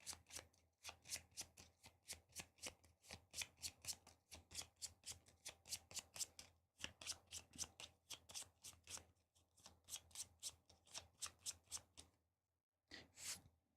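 Playing cards for the Arkham Horror board game are shuffled up close in quick, crisp riffling bursts, repeated many times in a steady rhythm with brief pauses between.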